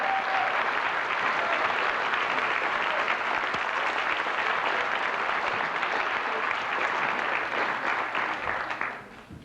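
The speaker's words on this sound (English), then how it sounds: "Let's give him a round of applause." An audience at an evening gathering claps steadily for several seconds, a dense even wash of applause from many hands that fades out at the end.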